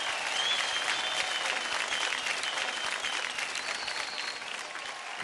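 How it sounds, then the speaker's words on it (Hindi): A television dance competition studio audience breaks into sustained applause, a thick continuous roar of clapping that tapers slightly toward the end, with faint cheering mixed in. "और जोरदार तालियां हो जाए रेमो के रंगीले से मंजू."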